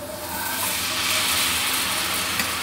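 Spice paste hits hot oil with frying dried fish (shutki) in a pan, giving a steady, close sizzling hiss that holds evenly throughout with no talking.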